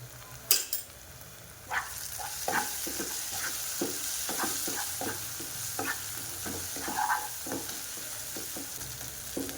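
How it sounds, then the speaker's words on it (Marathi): Spices frying in a pan for a mixed vegetable sabji, a soft steady sizzle punctuated by repeated spoon taps and scrapes against the pan, one sharper clatter near the start. "आपण सर्व मसाले आपण हे फ्राय करून घेतले आहे, पाहू शकता। हे पहा, चांगले फ्राय झाले आहेत।"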